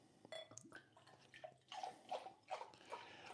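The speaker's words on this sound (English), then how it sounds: "I like to pour my beer like this" Cold dark beer straight from the freezer being poured into a glass, giving a soft, close liquid gurgle and splash in uneven bursts that grow louder toward the end, with no talking.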